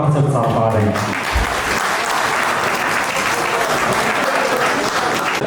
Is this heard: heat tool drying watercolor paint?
no